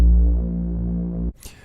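A sustained Liquid DnB reese bass synth drones with a thick, throbbing low hum. It holds steady and loud for over a second, then cuts off abruptly into a brief fading tail.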